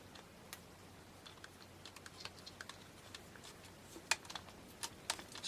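Small ticking and clicking of a driver turning a screw into a plastic bumper brace on an Axial SCX10 RC truck, a quiet run of light, irregular taps close by with no talking.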